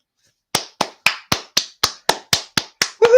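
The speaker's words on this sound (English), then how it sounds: "Ladies and gentlemen, a round of applause for all human beings," Hands clap in a slow, evenly spaced round: about ten crisp, close claps after a brief silence, with a faint cheer starting at the very end.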